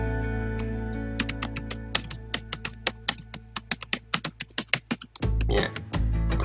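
A computer keyboard is typed on in a steady run of roughly twenty distinct, close key taps over a low hum, stopping abruptly before a burst of louder rustling noise.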